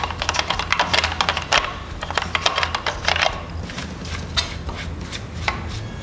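A light, soft-bristled brush working dust off a car engine, a rapid run of close, crisp scratchy strokes that thin out and soften toward the end, with no talk.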